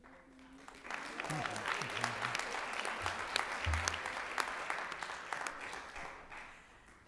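Applause at a school board meeting honoring district champion girls swells after a quiet start and holds steady, with a few low voices murmuring underneath.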